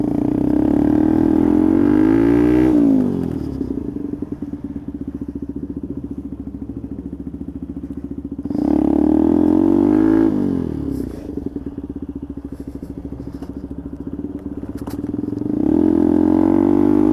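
A Benelli motorcycle being ridden, engine droning steadily and swelling loud in several waves as it passes close, then fading between passes.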